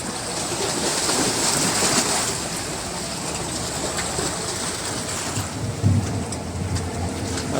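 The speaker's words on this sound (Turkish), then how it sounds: "bir yağmur yağıyor" Steady rain pours down on a boat at sea during a horse mackerel fishing trip off Giresun, a dense continuous hiss mixed with low rumble and water noise, with no talking.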